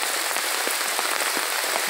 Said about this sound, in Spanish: Como ven, estamos bajo la lluvia. Miren qué hermoso está lloviendo.